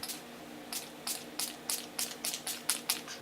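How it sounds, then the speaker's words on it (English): Quick bursts of fine face mist spray, about ten short hissing puffs in an uneven rhythm, close and clear, with no talking. "I'm going to spray my face"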